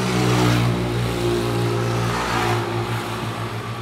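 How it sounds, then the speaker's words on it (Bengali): Loud motor traffic on a street on New Year's Eve night, with cars and bikes speeding past: a sustained, droning engine roar that swells and fades slightly and is heard alone, without voices. "এখান থেকে খুব জোরে জোরে বাইক যায়, তারপরে এখান থেকে গাড়িও যায়"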